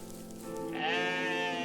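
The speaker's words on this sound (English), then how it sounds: "Oh my god, Spinny Sheep is here!" Sheep bleating in the video game OneShot, a single wavering, nasal bleat that swells partway through and holds steady, fairly close and clear with no talking over it.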